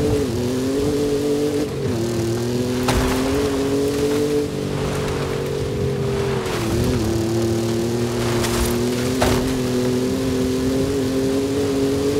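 A Ford F-150 Raptor engine revs loudly in Forza Horizon 5, holding a continuous droning tone that dips and rises as the throttle shifts, with brief gear-change breaks and no talk over it.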